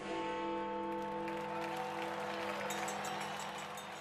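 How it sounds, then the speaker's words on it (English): A large crowd applauds and cheers Winston Churchill on his 1945 election campaign, a continuous wash of clapping and crowd noise under a steady background hum. "Everywhere he went, huge crowds turned out to cheer the nation's hero."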